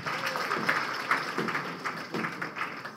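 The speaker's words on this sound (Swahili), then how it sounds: "Makofi tafadhali." An audience claps at a government launch ceremony for a national horticulture crops development strategy, with a steady patter of many hands that holds at a moderate level throughout.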